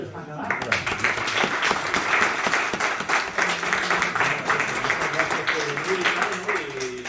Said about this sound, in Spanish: Bueno, te damos un aplauso.